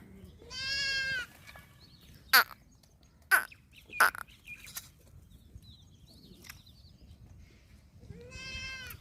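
Goat kids bleating while being nursed by a dog that lost its pups: two shrill, wavering bleats at the start and end, with a few sharp clacks between, nearby and without talk.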